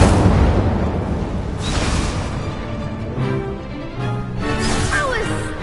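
Incendio fire spell bursts in Hogwarts Legacy: a loud, close, continuous roaring blast with rumbling booms and crackling flares, swelling again toward the end.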